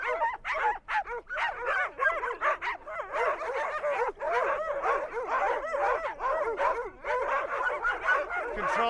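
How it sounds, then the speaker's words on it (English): Several dogs barking and yipping excitedly together at the prospect of a walk in Kamchatka, Russia, a dense, continuous chorus of overlapping barks and whimpers close by. "and they all start barking"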